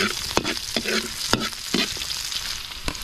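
Garlic sautéing in a hot pan for a fish dish, bright crackling sizzle with repeated scraping stir strokes of a utensil against the pan, close and busy.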